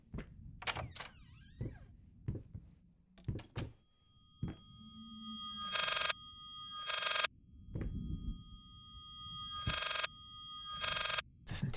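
Inside the horror video game Layers of Fear, a telephone rings in several bright bursts, interleaved with footsteps and soft thunks of movement, all fairly quiet.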